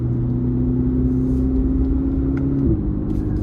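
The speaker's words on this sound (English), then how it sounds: "when I give it a pull, and something tells me it's gonna roar like nobody's business" A 2026 Chevrolet Corvette ZR1 3LZ track car's engine holding a steady, droning mid-pitched note that drops abruptly near the end, heard from inside the cabin.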